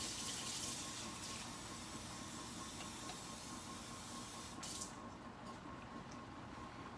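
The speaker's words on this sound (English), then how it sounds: "I'm going to fill this cup up with water." A kitchen faucet running steaming water into a cup, a steady broad hiss and gush that carries throughout, with the pitch and texture shifting slightly toward the end, and no speech.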